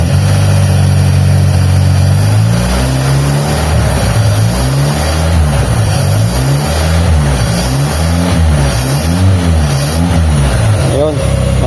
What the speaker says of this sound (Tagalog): maandar na yung makina natin